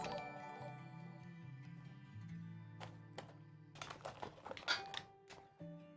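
Computer keyboard typing during the final stage of a high-end PC build with a Threadripper 3970X in a Lian Li O11 Dynamic XL case: a few scattered key taps early, then a denser burst of clicky strokes near the end, close and fairly quiet.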